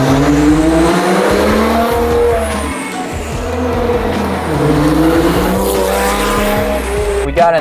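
A supercharged Chevy Colorado ZR2 pickup is driven hard, its engine revving and surging in rising and falling sweeps with a loud, close roar and a brief tire squeal, continuous throughout.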